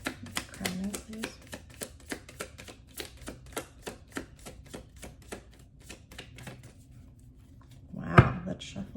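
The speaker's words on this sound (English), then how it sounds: "let's shuffle the deck" A deck of tarot cards is shuffled by hand in a quick run of crisp, evenly spaced taps and flicks, close and fairly loud, ending in a heavier clatter as the cards are squared.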